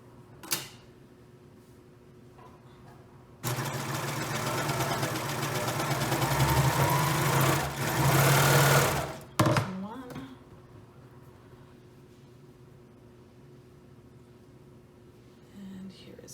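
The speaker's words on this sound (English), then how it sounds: "just go ahead and sew these shoulder seams" A home sewing machine stitches the shoulder seams of a Sawyer garment in one steady, close run of about six seconds, quiet room before and after.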